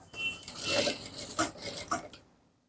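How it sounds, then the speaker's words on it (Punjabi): A Juki industrial sewing machine runs briefly and auto-cuts its thread, giving a short close mechanical whir with a few clicking snaps before falling quiet, a voice speaking over it. "ਇਹ ਜਿਹੜੀ ਹੈਗੀ ਆ ਮਸ਼ੀਨ ਜੀ ਆਪਣੀ ਆਟੋ ਕੱਟ ਜੀ ਧਾਗਾ ਆਟੋ ਕੱਟਦੀ ਆ"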